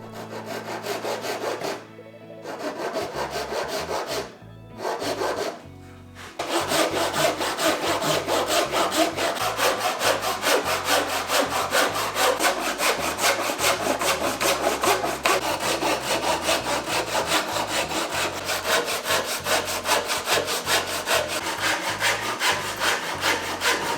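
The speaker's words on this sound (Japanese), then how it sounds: "正規の高さでまたぐるりと切っていきます。" A hand saw cuts wood with brisk, rhythmic rasping strokes, close and loud. After two short pauses early on, it settles into continuous fast sawing around a piece being trimmed to height, with no talking.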